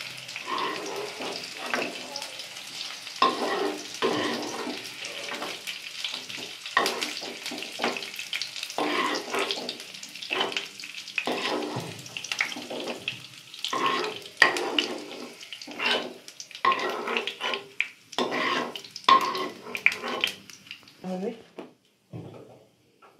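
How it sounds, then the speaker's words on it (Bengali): Onions frying in oil in a home kitchen, heard as repeated bursts of sizzling and stirring in an uneven rhythm, with a voice at times. "তেলের মধ্যে পেঁয়াজটা ভেজে নেবো"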